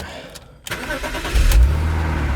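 A BMW Z4 (E85) engine cranks and fires up, settling into a loud, steady low rumble close by after a brief quiet gap, with no talk.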